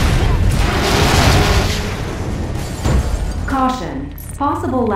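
A big explosion in Lego Marvel Super Heroes at a laboratory, a loud rumbling boom with shattering debris that fades over a few seconds before voices take over.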